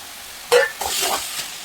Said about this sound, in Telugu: ఇప్పుడు ఉల్లికాడలు వేసి బాగా కలపాలి.